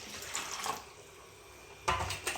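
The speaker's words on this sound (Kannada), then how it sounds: "ಬೆಚ್ಚ ನೀರು ಪಾಡೋಡು" Warm water is poured into a container for washing grapes: brief splashing pours, one at the start and another near the end, with a quiet stretch between.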